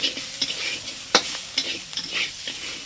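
Potatoes and ivy gourd leaves frying with garlic and black cumin in a pan, stirred with a spatula: steady close sizzle broken by several sharp scraping strokes, no talk.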